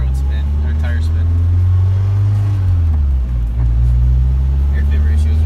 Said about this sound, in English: Nothing but tire spin.